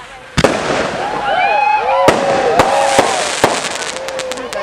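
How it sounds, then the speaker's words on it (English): Fireworks burst at an outdoor Headfest 2008 display, with sharp loud cracks scattered across the clip and whistling, crackling trails between them, while people talk over the show. "These are going to be awesome fireworks this year, aren't they?"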